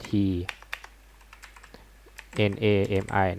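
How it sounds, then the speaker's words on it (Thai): Typing on a computer keyboard, a few soft scattered key clicks in a quiet pause between stretches of someone speaking Thai. "สามารถพิมพ์ที่เสิร์ชบาร์ตรงนี้นะครับ แล้วก็พิมพ์คำว่า bitnami นะครับ"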